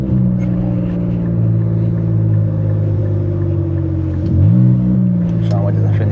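A 500 hp twin-turbo Infiniti Q50 Red Sport driving, a loud steady engine drone that dips briefly and then rises again as it accelerates, heard from inside the car.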